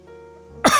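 An elderly man gives a short, slight cough close by, a single brief burst after a quiet moment of low background tone.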